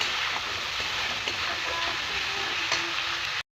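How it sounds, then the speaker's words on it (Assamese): Masala with cumin powder sizzles steadily in hot oil for a jackfruit curry, a dense continuous frying hiss with faint stirring scrapes, close and alone without talk, ending abruptly. "আকৌ মছলাখিনিৰে সৈতে এইখিনিও অকণমান সময় ভাজি ল'ম। তেল বিৰিঙি অহালৈকে ভাজিম মছলাখিনি।"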